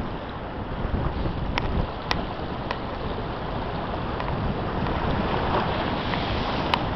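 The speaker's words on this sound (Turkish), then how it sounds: "Aha! Geldi bir güzel dalga daha." Sea waves break on the rocky shore of Kemik Burnu at Saros during a fishing trip, a loud continuous roar of surf and churning water with wind buffeting the microphone, a few sharp splashes and no voices.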